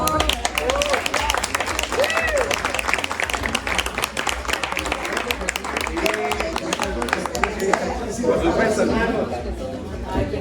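Dense, sustained audience applause at a live Spanish-language show, steady and loud throughout, with crowd chatter and voices mixed in.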